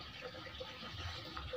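Water is poured onto the roots of a potted strawberry plant in porous growing media, a soft, steady trickle and gush at low volume.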